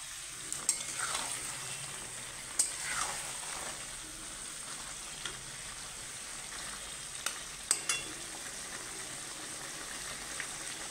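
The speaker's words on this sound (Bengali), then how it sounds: "আবার নেড়ে দিলাম ভালো করে।" Chicken and onions fry in a village-style pan, a constant soft sizzle with occasional scraping stirs and a few faint clinks of a spoon on metal, quiet and without talk.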